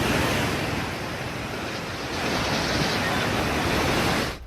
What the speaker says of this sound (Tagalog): Umapaw ang tubig mula sa ilog sa Tubod Bridge at Hinaplanon Bridge.